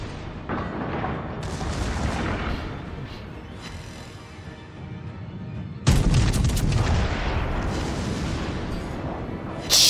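Battleship USS Alabama in a naval combat game firing armor-piercing rounds, heavy booming salvos with a loud blast near six seconds and another at the very end, over continuous rumbling battle noise.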